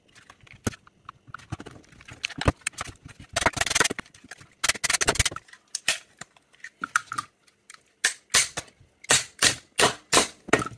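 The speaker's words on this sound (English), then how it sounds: "Please note I'm hitting that plastic tab and not the actual batteries themselves" Sharp tool strikes on the plastic tab of a Dell RN873 laptop battery pack holding 18650 lithium cells: loud, close cracks and knocks, first irregular, then a steady run of repeated blows near the end, with no talking.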